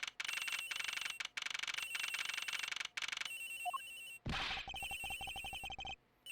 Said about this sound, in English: The ring is coming from somewhere in here